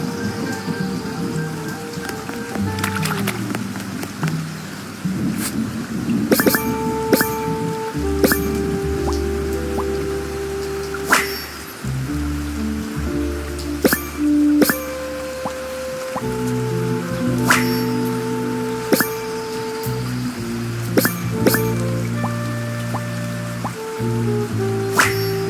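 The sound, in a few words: rain falling, from the video game Duck Detective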